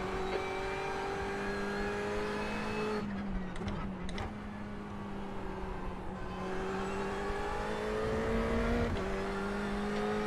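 An LMP prototype race car in iRacing closes in and passes on the right at Road America, its steady high engine whine holding over the player's own car noise, with a short burst of shifting roar midway.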